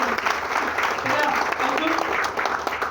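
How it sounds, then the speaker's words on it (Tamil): Audience applause at a company meeting in Madurai, a steady wash of clapping from a crowd that carries on evenly for the whole stretch, with faint voices mixed in beneath it. "அப்ப கூட்டு வந்த நபருக்கு நல்ல ஒரு பாராட்டு கொடுக்கலாமா"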